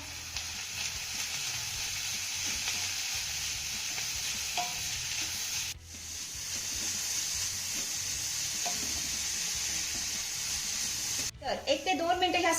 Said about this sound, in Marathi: हाय फ्लेम वरती आपल्याला ह्या सगळ्या भाज्या एक ते दोन मिनिटं चांगल्या परतून घ्यायच्या आहेत